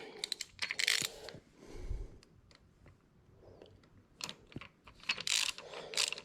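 A ratchet tightens an intercooler hose clamp on a 2018-or-later Honda Accord, giving off quick bursts of close, crisp clicking. Short pauses separate the bursts, and faint metallic handling noises fill the gaps.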